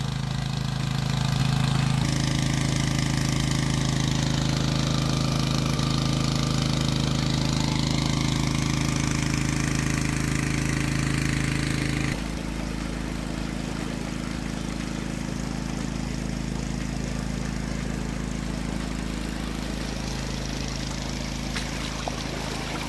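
An engine-driven water pump runs steadily in a dry-season cornfield in St. Ann, Jamaica, a loud continuous mechanical drone that shifts tone partway through and keeps going.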